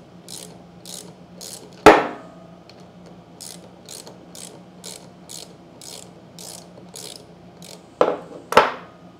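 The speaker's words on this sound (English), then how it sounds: "Just a 10 millimeter socket." Quick ratchet clicks from a 10 mm socket loosening plungers on a CAT 3DX29GSI pressure washer pump, in short regular bursts, broken by a few sharp metallic knocks nearby.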